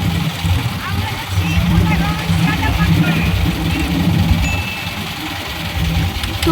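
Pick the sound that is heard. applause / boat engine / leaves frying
boat engine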